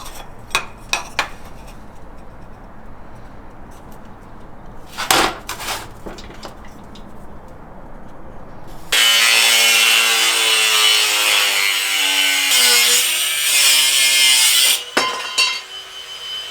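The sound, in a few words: cutting a 1/8 inch steel plate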